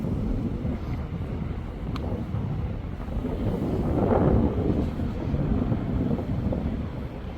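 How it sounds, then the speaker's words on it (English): Steady wind buffeting a microphone outdoors beside the palace in Stockholm, a continuous low rumbling roar that swells slightly midway and stays loud throughout, with no talking. "Oh, the wind's picked up."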